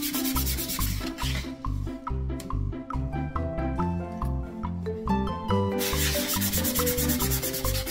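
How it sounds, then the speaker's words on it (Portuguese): Hand sanding of painted wooden baby kit pieces, a steady continuous rubbing scrape that carries on without pause, set against a constant musical backdrop. "Mas com paciência, vai lixando."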